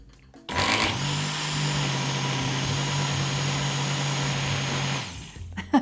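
A blender mixing coconut whirs steadily at a constant medium pitch for about four seconds, then winds down and stops.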